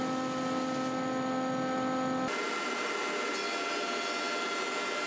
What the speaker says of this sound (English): The thicknesser, of course.